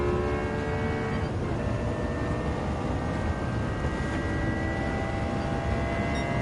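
Supercar engines in Gran Turismo 7, including a McLaren MP4-12C, roar steadily through a race, producing a dense, continuous drone with faint high whines layered on top, loud and unbroken with no talking audible.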